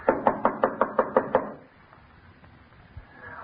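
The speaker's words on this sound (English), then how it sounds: "I had to knock." Knuckles rap on a wooden door in an old-time radio drama, eight quick evenly spaced knocks, close and crisp, then a quiet room with a faint stray sound.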